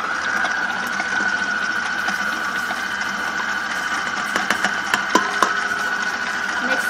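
A stand mixer creams butter and sugar for double chocolate chip cookies, its motor a steady, fairly loud whirring hum with a high tonal whine and faint scattered clicks from the bowl.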